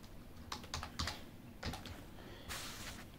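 Quick bursts of keystrokes on a computer keyboard during spreadsheet formula entry, soft clicks in short irregular runs with pauses and a longer final flurry, faint and nearby.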